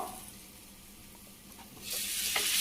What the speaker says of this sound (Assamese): এয়া আদা নহৰুখিনি অকণমান ভাজি ল'লোঁ